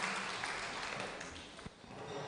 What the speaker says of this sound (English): A big round of applause for Madam Obi from Nigeria